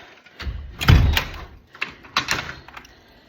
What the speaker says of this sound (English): I'm gonna lock the front door.